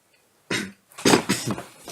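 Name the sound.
cough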